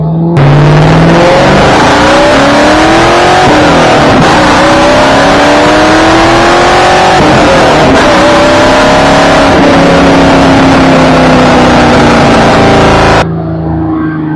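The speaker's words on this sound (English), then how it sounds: "it sounds excellent when you hit the gas" A modified 1991 Foxbody Ford Mustang engine revs hard and accelerates, its pitch climbing through repeated rises as gears shift, roaring continuously up close.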